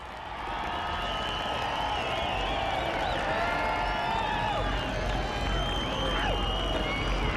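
A large stadium crowd roars and cheers continuously after a daredevil's world-record car crash, a dense, sustained wall of distant voices and whoops with no break.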